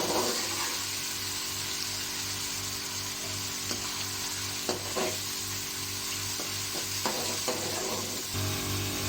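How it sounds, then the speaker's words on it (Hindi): Chopped onions frying in hot cooking oil for a beef pulao, a continuous close sizzle with occasional stirring scrapes and clinks over a low hum, with no voices. "जब तक हमारा कुकिंग ऑयल गर्म हो गया, हमने इसमें अपने ऑनियन कट की हुई ऐड कर दिया।"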